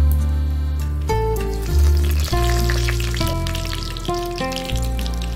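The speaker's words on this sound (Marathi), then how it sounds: "आता कढईमध्ये आपण जिरं करूया, फोडणीला घालूया आणि जिऱ्याबरोबर जे खडे मसाले आपण ठेवलेले आहेत ते टाकूया" Cumin and whole spices sizzle and crackle in hot oil in a kadhai for tempering, a loud continuous fry under steady sustained background music tones.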